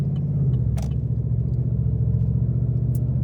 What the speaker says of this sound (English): We're gonna be doing one more acceleration